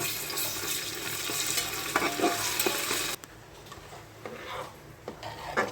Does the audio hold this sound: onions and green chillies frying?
yes